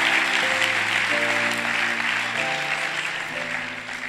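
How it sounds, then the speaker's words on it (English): A church congregation claps together in sustained, dense applause, steady and moderately loud throughout, with faint tonal sounds beneath the clapping. "we should be clapping for ourselves"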